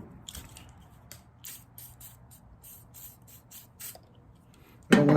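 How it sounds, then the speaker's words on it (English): Short, crisp hisses of WD lubricant spray hit the tail light connections of a 1995 Nissan D21 in a rapid series of close bursts, ending in one louder, longer blast. "I think I will go with the WD because it's a wider area of spray."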